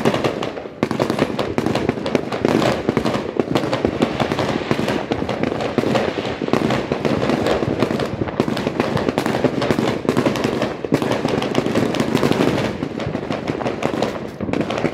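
Dense New Year fireworks and firecrackers crackling and popping nonstop, a continuous barrage of loud overlapping bangs with no letup.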